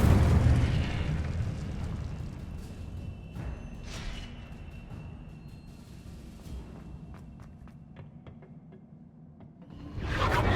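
An Incendio fire spell cast in Hogwarts Legacy, a loud whooshing flare that fades into a crackling rumble with scattered small pops, then a fresh burst swelling up at the end.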